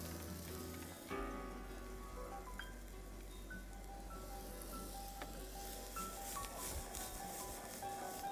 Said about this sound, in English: while the eggplant are cooking and the flour is helping get the crispiness alive of the eggplant